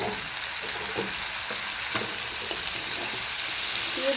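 Marinated snakehead fish dropped into a pan of lightly fried garlic and onion, a dense continuous sizzle with faint stirring taps beneath it.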